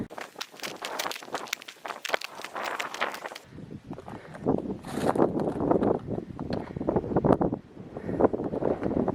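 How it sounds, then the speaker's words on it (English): Wind buffets the microphone out in dry hills around an old mine site, rough rushing gusts mixed with crunching footsteps and rustle, close and uneven throughout. "It is windy today too"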